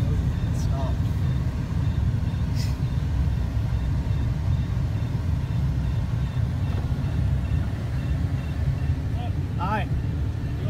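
A deputy's car speeding away off private property, a steady engine and road rumble that stays loud throughout, with faint voices and other noises over it.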